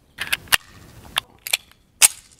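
Shots from a 1911 pistol hit a steel gong at 15 metres, five or six sharp reports spaced irregularly over a couple of seconds, each with a brief ringing tail and no talking.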